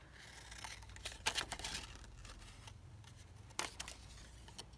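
Scissors snipping out a paper piece from scraps, a few quiet crisp cuts with soft paper rustling between them, close and alone.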